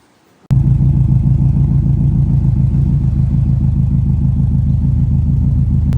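A classic Subaru Impreza GC8 starts off abruptly after a near-silent moment, its engine note a loud, close, steady low-pitched drone with a pulsing throb as the car drives.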